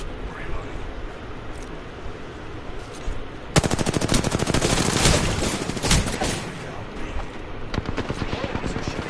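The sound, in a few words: gunfire from enemies in video game Apex Legends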